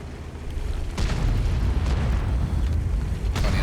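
A heavy boom as a Tier 8 German tank destroyer, the Jagdpanther II, is knocked out in World of Tanks, followed by a sustained low rumbling roar and a later sharp burst.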